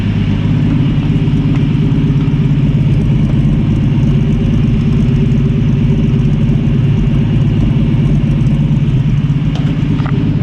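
A 1965 Ford Mustang restomod's engine runs steadily after a new hose was fitted, a loud, close, even idle with a deep rumble and no misfire, continuous for the whole stretch with no talk.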